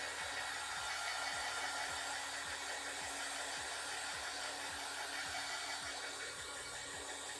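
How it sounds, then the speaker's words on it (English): A heat gun blows a steady, even hiss of hot air over wet watercolor paint, continuous and unchanging for several seconds with a faint repeating tick beneath and no speech. "But let's get our heat gun real quick."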